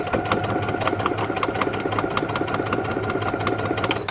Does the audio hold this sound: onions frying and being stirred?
no